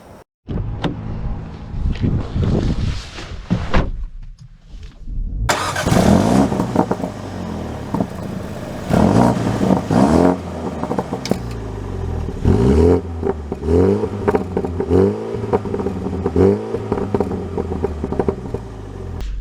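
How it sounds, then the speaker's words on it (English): A 2024 Mini Cooper Countryman John Cooper Works pulls away and drives, its engine note and road rumble rising and falling steadily and loudly inside the cabin after a brief quiet pause near the start. "Let us set off in the John Cooper Works Countryman."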